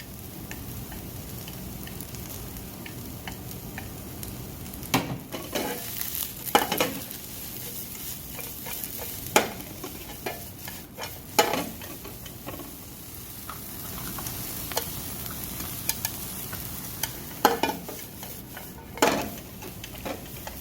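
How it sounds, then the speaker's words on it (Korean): Cuttlefish stir-frying over high heat sizzles steadily in a pan, with repeated sharp scrapes and clanks of a utensil against the metal, close and continuous without talk. "세게 빨리 볶되 너무 타지 않게"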